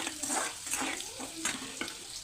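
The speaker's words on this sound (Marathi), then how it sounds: "एका कढईमध्ये तेल गरम करू त्यामध्ये जिरे आणि लसूण घालू परतून घेऊया चांगलं" Garlic and cumin sizzle in oil in a kadhai while being stirred, with scraping strokes and soft crackles, close and fairly quiet.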